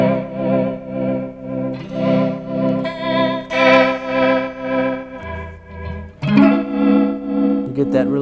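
Electric guitar chords played through a Warped Vinyl mkII pedal with its chorus mixed in, giving a loud, shimmering, warbling tone that rings out steadily before a fresh strum near the end.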